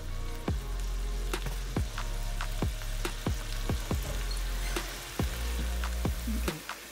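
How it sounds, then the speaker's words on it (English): Onions and red and green peppers fry in a pan with a constant close sizzle, broken by a dozen or so sharp, regular tapping hits, likely a utensil striking the pan while stirring. "So we need the vegetable to cook. So let me just go ahead and add the vegetables."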